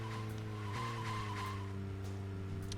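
Car engines and skidding, squealing tires in Deadly Premonition, a steady close engine drone with sustained tonal whine and brief squeal bursts, continuous throughout with no talk.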